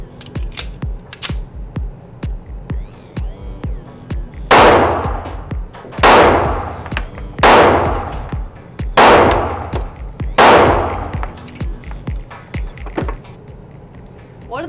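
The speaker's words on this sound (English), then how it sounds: "Still shooting the Kimber SIS PRO. This time I'm going to focus on accuracy." Kimber SIS PRO 1911 pistol fired at a shooting range: five loud, sharp shots spaced about one and a half seconds apart, with fainter clicks and handling noises before and after.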